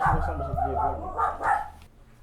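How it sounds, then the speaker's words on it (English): Several sharp dog barks in quick succession, fairly close, with a short pause before a final bark. "I'm talking about the dogs. What are they barking at?"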